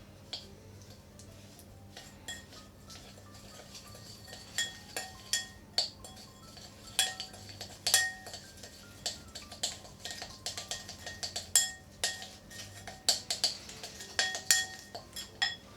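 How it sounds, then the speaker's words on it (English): Butter and sugar being creamed in a bowl for a cake, with irregular clinks and scraping taps of a utensil against the bowl that grow busier toward the end, close and with no talking. "creaming the butter and sugar."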